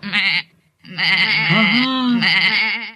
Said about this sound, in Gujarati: આ તો બકરી બેન આવ્યા